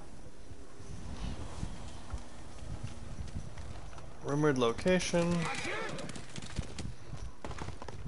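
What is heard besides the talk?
horse hooves clip-clop in video game Ghost of Tsushima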